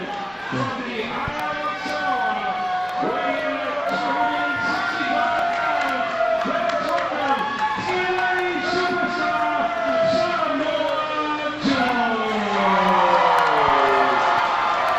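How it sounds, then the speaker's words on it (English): A pro wrestling crowd at a KAPOW show reacts to a wrestler's ring entrance with a mix of boos and cheers, a loud sustained roar with whoops, under an announcer talking throughout. "this crowd, a somewhat curious mixture of boos and cheers as Joe comes into the ring"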